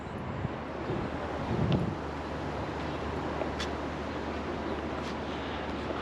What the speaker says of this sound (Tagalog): Oh, kalakas ng hangin.